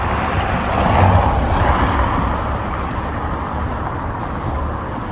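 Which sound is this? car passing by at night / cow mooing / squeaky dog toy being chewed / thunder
car passing by at night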